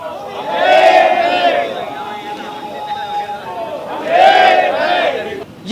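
A large protest march crowd in Kamthi, a suburb of Nagpur, chants slogans in loud rhythmic bursts, two big surges of many voices separated by a quieter stretch of ongoing crowd noise.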